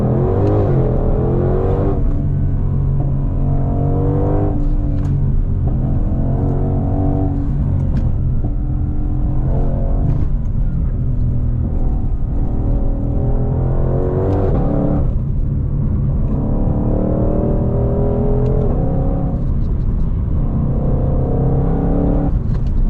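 A powerful sports car engine revving repeatedly, rising and falling in long throaty pulls and surges over a deep, constant rumble, loud and close.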